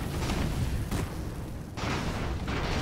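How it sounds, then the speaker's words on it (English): Explosions from the airship battle game Airships: Conquer the Skies, with several heavy, rumbling booms in succession, each a thick burst that fades into a low roar, loud and close with no talking. "The explosions are much better in slow-mo."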